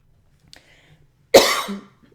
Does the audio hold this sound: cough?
yes